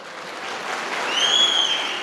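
An audience at a Tamil debate event claps together, a brief swelling patter of many hands that builds slightly and stays fairly loud, with a faint tonal whine running through it.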